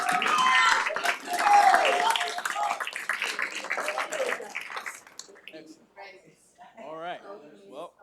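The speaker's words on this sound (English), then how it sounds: "So let's give them all a round of applause." An audience at a pitch competition event claps in a burst of applause that is loud at first and tapers off, with a speaker talking over it and afterward.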